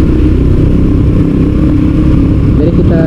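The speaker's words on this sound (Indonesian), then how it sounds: "tanpa tekan pas kopling, itu motornya ngerang-ngerang nih" Manual-clutch motorcycle engine revving and straining with the clutch lever not pulled in, a continuous loud, rough low rumble with a slight rise in pitch near the end.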